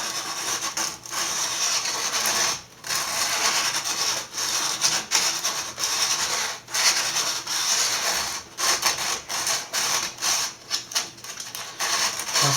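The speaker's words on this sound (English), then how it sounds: "I've got some sandpaper and going carefully around the holes, being careful not to scratch the back" Sandpaper rubbed by hand around drilled holes in the back panel of a Dell Inspiron One 2320 all-in-one computer, a steady close scratchy sanding with rhythmic strokes and short pauses, heard alone without talk.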